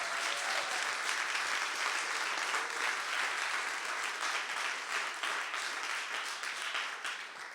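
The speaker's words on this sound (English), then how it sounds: "So please, big round of applause for all of you." An awards-ceremony audience applauds the honourees, a thick, sustained roar of many clapping hands at steady volume, easing slightly toward the end.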